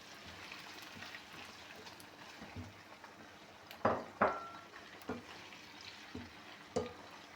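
Meat tipped into a pan of fried onions sizzles with a faint, steady frying hiss, broken by several sharp clanks and scrapes of a utensil against the pan, with no talking.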